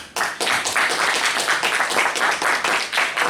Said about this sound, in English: I would like to request a big round of applause for our District Director, DTM Toastmaster, Samir Hamid.